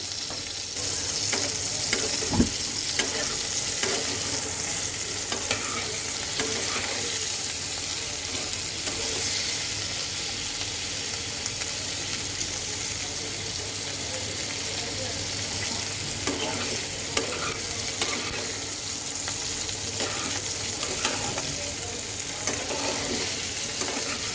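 Potatoes sprinkled with a little salt fry in a pan, giving a loud, continuous sizzle throughout with frequent scraping and stirring of a spatula, close up and with no talk.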